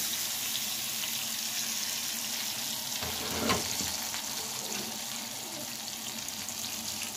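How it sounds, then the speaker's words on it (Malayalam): Pomfret fish frying in a pan, turned to crisp the second side for a Kerala banana-leaf dish; a steady broadband sizzle with a brief clatter midway, no voices. "ഇത് നമുക്ക് ടേൺ ചെയ്ത് കൊടുക്കാം മറ്റേ വശം കൂടെ നന്നായിട്ടൊന്ന് പൊരിച്ചെടുക്കാം"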